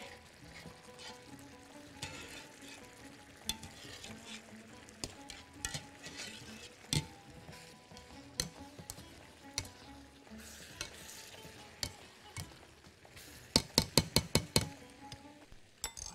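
Boiled pasta stirred and tossed into arrabbiata sauce with olives in a pan, a steady wet sizzle under soft scraping and stirring, with clinks and knocks of a utensil against the pan and a quick cluster of sharp taps near the end.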